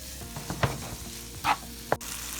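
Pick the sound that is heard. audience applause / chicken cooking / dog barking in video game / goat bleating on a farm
chicken cooking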